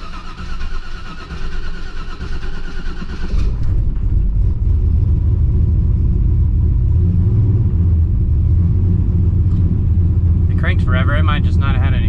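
A 900 hp turbocharged Silverado on Holley EFI cranks for a few seconds, then catches and settles into a loud, steady, deep rumble, with a brief chirpy sound near the end.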